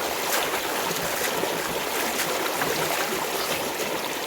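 Water pouring steadily over a person's body during an outdoor village shower in Africa, a dense continuous splashing rush that holds even and close for the whole stretch, with no talk.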